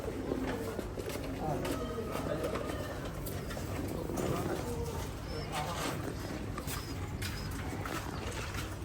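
Pigeons coo softly at a pigeon farm holding coloured fancy breeds, low repeated calls running through a busy, continuous background of other noise.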